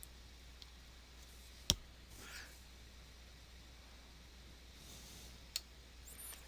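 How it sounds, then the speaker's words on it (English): Two sharp, isolated computer mouse clicks, one early and one later, stand out against a quiet background hiss in an otherwise still room. "I'm going to just click on create."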